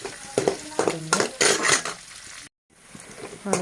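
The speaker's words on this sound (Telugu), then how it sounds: "ఉల్లిపాయ పచ్చిమిర్చి వేసాను. అవి తేజ పచ్చిమిర్చి అన్నమాట. ఇవి బాగా వేగుతున్నాయి." Onions and Teja green chillies fry in oil in a pan with steady close sizzling, broken by repeated metal clinks and scrapes of stirring. The sound cuts out for a moment, then resumes more quietly.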